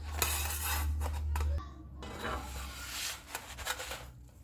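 Naan being set down onto a metal baking tray, with soft rubbing and light metallic clinks and scrapes over a low hum that cuts off partway through, close and fairly quiet, with no talking.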